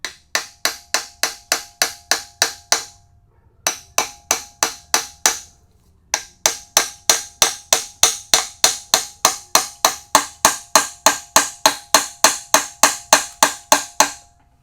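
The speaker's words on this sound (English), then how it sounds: "you just guide this in there and you lightly tap it." An oil pump is tapped lightly into place on a small block Chevy engine: a long, even series of sharp metallic taps, about three per second, close and crisp, broken by two brief pauses, with no talking.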